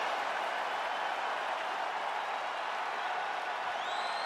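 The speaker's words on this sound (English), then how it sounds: "So the crowd voicing its appreciation after that round." A UFC Fight Night arena crowd applauds and cheers after a round, a steady dense roar of clapping and voices filling the space without a break.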